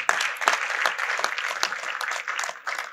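A congregation claps steadily at a church broadcast, a dense, lively burst of applause that holds for a few seconds without talk.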